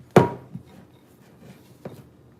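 A spatula scraping and folding macaron batter in a bowl, one sharp loud scrape followed by a few softer dull strokes, close and alone.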